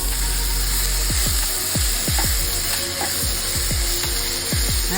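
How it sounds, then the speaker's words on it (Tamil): Tomatoes sautéing in a pan for onion coconut chutney, with a steady close sizzle and a run of rhythmic scraping stir strokes throughout. "தக்காளி போட்ட பிறகு ஒரு 3 நிமிஷம் வதக்கிடுங்க."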